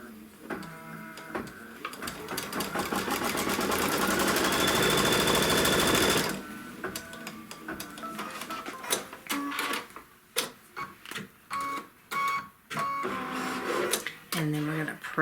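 A sewing machine stitches a seam line on a Kimberbell Mystery Wallflower quilt block, running in one steady, loud mechanical whir for several seconds and then in short stop-start bursts while a person talks.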